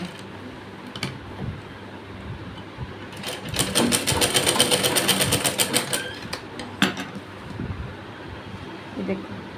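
A sewing machine stitches a pant pocket in a short, loud run of rapid even clatter lasting a few seconds, framed by quieter handling noises and occasional talk.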